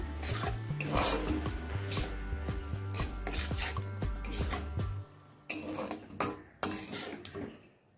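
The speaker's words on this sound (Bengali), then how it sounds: "এবার দইটাকেও ভালো করে মিশিয়ে নিচ্ছি।" A spoon stirs yogurt into a spice mixture in a pan for dudh chingri, rhythmic scraping strokes against the metal, then slower, irregular clinks and rubs, close and alone without talk.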